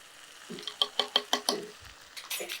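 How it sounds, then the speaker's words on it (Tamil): A spoon stirs turmeric, Kashmiri chili and pepper powder in a frying pan, giving a quick run of five or six sharp scraping clicks followed by softer scrapes, close and fairly faint. "சேர்த்துட்டு நம்ம என்ன செய்ய போகிறோன்னா, நல்லா அப்படியே கிளறி விட்டுருங்க"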